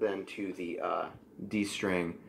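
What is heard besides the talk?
None of the usual background noises is heard.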